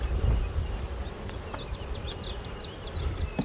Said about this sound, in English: So we got a lot of bees.